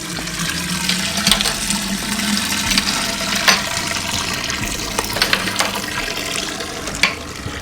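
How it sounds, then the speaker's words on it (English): Hot water pours and splashes steadily over mashed grain during the sparge of a West Coast pale ale brew, a continuous running-water wash with small splashy bursts throughout, close and fairly loud. "So we're gonna go ahead and rinse the grains and then start the boil."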